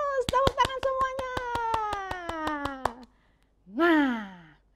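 A group of children at a church kids' service clap rapidly and rhythmically while one voice holds a long wavering note, followed by a short vocal sigh.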